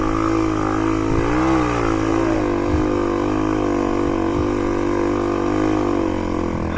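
A motorcycle struggling through sand, its engine held at a steady mid-range drone with revs briefly rising and dipping, close and loud, with a few dull knocks and no talking.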